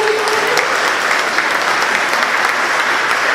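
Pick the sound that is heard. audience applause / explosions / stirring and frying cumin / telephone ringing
audience applause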